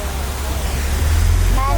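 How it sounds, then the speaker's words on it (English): A man-made waterfall on an African safari ride at Disney's Animal Kingdom, heard as a loud, steady rushing roar of falling water with a deep low rumble, continuous and close throughout. "Man-made waterfall."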